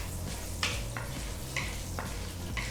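Urad and chana dal roasting in a pan for hotel-style sambar, with a steady low sizzle and several sharp scraping stir strokes at a regular pace, close and clear with no talk.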